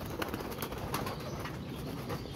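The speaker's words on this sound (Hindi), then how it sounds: "ये जी माशाल्लाह दोस्तों कबूतर है" Pigeons nearby give soft cooing calls and brief wing flutters against a dense, noisy background, with no voices.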